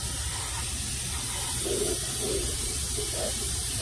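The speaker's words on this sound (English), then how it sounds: "you get under here and you just evenly coat everything, wire casings, the frame, everything." Universal undercoating sprayed onto a vehicle undercarriage, frame and wire casings, a steady continuous aerosol hiss heard close up and fairly quiet, without pause.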